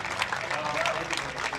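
Crowd at a football grand final applauding, a dense steady wash of clapping throughout, mixed with talk over a public address.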